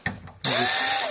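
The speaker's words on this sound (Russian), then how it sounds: "Сначала откручиваются вот эти винты." A power screwdriver whirs steadily as it backs out the pump screws on an Indesit WIL105 washing machine, starting abruptly after a brief quiet moment and running close and loud to the end.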